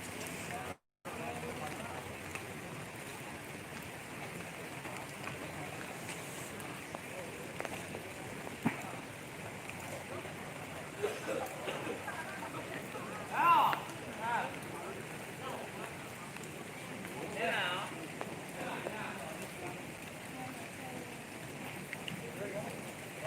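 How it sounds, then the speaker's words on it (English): Heavy nighttime rainfall at a university campus, a steady dense hiss of rain on surfaces continuing throughout, with faint background voices and occasional soft knocks. "Let's enjoy this rain with me."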